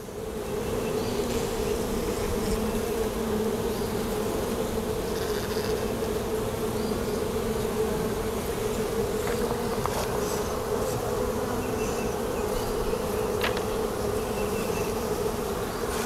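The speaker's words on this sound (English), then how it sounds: "the forage bees, obviously they're returning here" Dense, steady buzzing of many honeybees close by, forager bees returning to a hive, a continuous swarming drone with no pauses.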